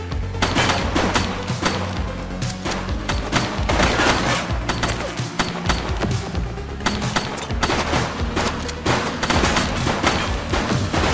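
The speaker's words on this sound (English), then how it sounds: "Shots fired!" Dense bursts of gunfire from The Precinct police video game, a rapid volley of loud shots and automatic fire crackling continuously with booming hits, no talk over it.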